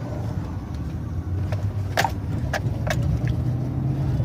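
A pickup truck drives along towing a Rhino side-by-side, its low road and engine rumble steady throughout, with a few light clicks and jingles inside the cab.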